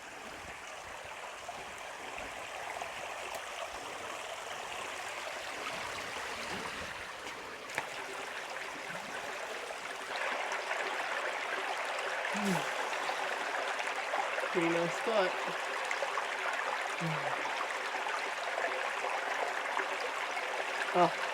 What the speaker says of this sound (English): there's just nothing like the sound of running water